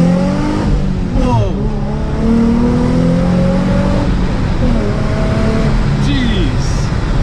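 Salvage Nissan 350Z pulling hard in first gear, engine revving loudly up through the range with a clear pitch climb, a brief drop at the gear change, then rising again close up under an excited voice.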